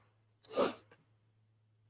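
A single sharp sneeze, close and fairly quiet, preceded by a quick intake of breath over a low steady hum.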